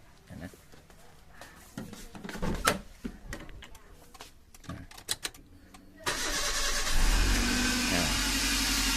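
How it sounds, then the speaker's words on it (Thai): A Toyota Avanza 1.3 car engine cranks and catches after an alternator bearing replacement, settling into a loud, steady idle close by, after handling clatter and someone speaking. "เดี๋ยวผมจะสตาร์ทให้ดูนะครับว่ามันดังแบบไหนนะครับ"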